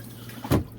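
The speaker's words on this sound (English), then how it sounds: "Push on the foot pedal here to activate the toilet. It'll fall in there and run some water in there." An RV toilet flushes after its foot pedal is pressed, releasing one brief, close rush of running water that quickly fades.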